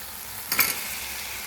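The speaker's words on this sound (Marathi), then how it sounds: "आता यात आपल्याला कोळंबी आणि बटाटा टाकून घ्यायचा आहे" Prawns and potato go into frying masala with a quick burst of clatter and sizzle, a short splash of hiss rising over a low background fry and then settling.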